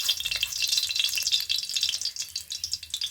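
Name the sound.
red lentil fritters frying in oil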